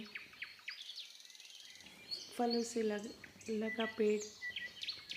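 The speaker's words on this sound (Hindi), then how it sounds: "वहाँ पंछी चहचहा रहे थे।" Small birds chirp from a tree in a garden: a few short tweets at first, then a clearer run of repeated melodic calls mid-clip, fairly near, with a voice talking over them.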